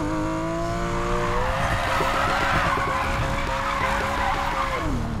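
A loud, revving drift car engine from the game Need for Speed Payback roars continuously with pitch shifts and a burbling, popping texture, mixed with tire noise.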